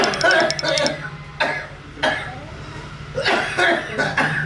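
A person coughs repeatedly in a few rough bursts, close by, with short gaps between the coughing fits.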